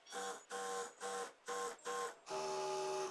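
A sewing machine stitches a folded half-inch hem on a double-layer gharara dress, running in five short bursts with brief pauses and then a longer continuous run, steady mechanical whirring up close.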